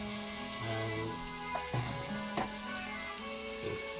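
Bolognese ingredients frying gently in a pan, a low, soft, continuous sizzle with a few faint stirring taps, quiet and close, no speech, over a tonal background hum.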